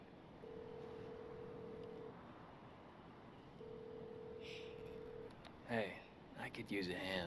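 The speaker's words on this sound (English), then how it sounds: "Let's go over to the phone and call Nico." Two long steady tones sound as a phone call is placed in the video game Devil May Cry 5, over a low background rumble, with game voices and effects rising at the end.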